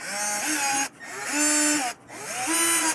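A power drill with a 1/8-inch bit whines in three sustained bursts while drilling holes on a Harley motorcycle, pitch rising as it spins up and dropping as it slows, with short pauses between.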